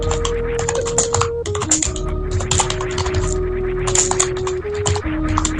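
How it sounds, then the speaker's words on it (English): Computer keyboard typing during a Super Metroid randomizer session, rapid clustered key clicks with short pauses, close and clear over a steady background tone. "If you hear my typing, I'm sorry."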